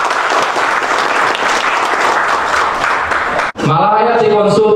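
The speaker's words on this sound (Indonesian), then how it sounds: "Aplaus buat kita semua." An audience in a hall applauds loudly and steadily for several seconds, then the clapping cuts off abruptly and a voice begins speaking.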